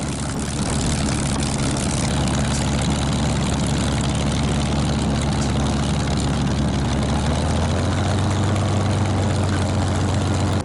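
A Corsair's propeller engine roars close and steady, a loud continuous drone with a deep, throbbing low end that drops slightly in pitch toward the end, masking everything else.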